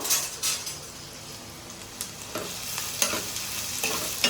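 Mutton with onion and green chilli is stirred in hot oil in a pan, giving a steady close sizzle with scraping stirs and light clinks of the utensil against the pan.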